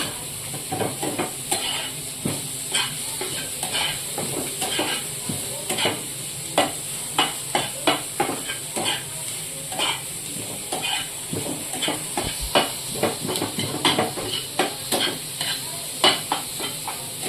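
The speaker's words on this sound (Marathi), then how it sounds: "टाकूया, फ्राय करूया कांदा" Onion with a pinch of salt frying in a pan, a steady close sizzle broken by repeated sharp scrapes and clinks of a spatula stirring against metal, without speech.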